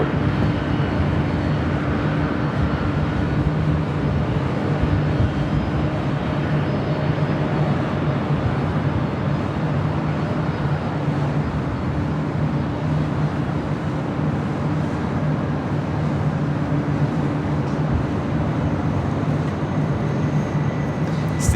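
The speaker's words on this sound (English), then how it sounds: "The Delta 767-300ER heading to JFK, heading over to 24 left" Delta Boeing 767-300ER jet airliner, a 28-year-old aircraft, moving at LAX toward runway 24 left, a loud continuous jet-engine roar with a steady droning hum throughout.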